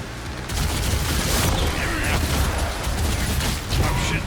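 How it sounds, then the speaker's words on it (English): The Shredder spike launcher firing full auto in DOOM: The Dark Ages, a loud continuous barrage of mechanical clattering shots with booming impacts and metallic creaks, sustained for several seconds. "The Shredder is a full auto weapon that launches a barrage of barbed spikes at enemies."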